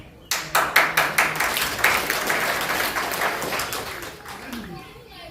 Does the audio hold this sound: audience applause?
yes